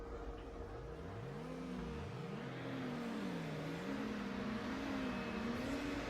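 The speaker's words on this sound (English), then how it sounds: "Over rev, of course it did." A game car in Need For Speed Underground over-revs: the engine whines up and down in repeated surging sweeps, loud and continuous over a steady mechanical hum, with no talking.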